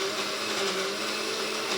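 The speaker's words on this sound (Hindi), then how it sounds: "और अब कर लूंगी मैं इसे मिक्सी में ग्राइंड," An electric kitchen mixer grinder whirs loudly and steadily at high speed as it grinds a milk mixture into a paste for a sweet, with no voices over it.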